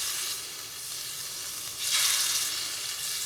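Steady, bright sizzling of shrimp frying in a hot pan, with a brief louder surge of crackle partway through; no voices.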